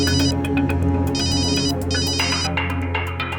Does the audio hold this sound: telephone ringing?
yes